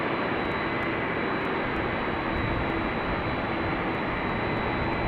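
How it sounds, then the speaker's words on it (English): Airbus A350 jet at Schiphol airport, a steady broadband engine roar with a constant high whine, heard from a distance with no voices. "Now, this is not the only A350 over here at Schiphol right now."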